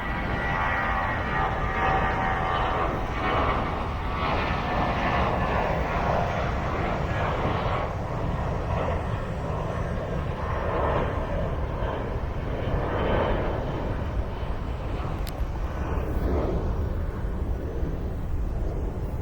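American Airlines airliner at Philadelphia International Airport, its jet engines producing a loud, sustained roar with a rising and falling whine as it passes, continuous throughout.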